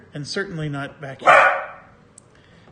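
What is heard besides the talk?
dog barking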